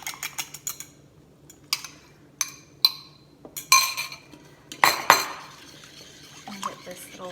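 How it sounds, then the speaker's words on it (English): Utensil beating an egg in a bowl while making naan bread, giving a quick series of close, sharp clinks and taps with short pauses between bursts. "I'm gonna kind of beat this egg before we put it in"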